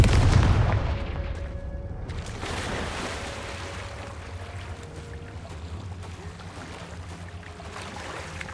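A heavy explosion from a Confringo spell blast in a video game, a loud low thump at the start that trails into a long, steady rumbling decay with a faint hum underneath, no voices.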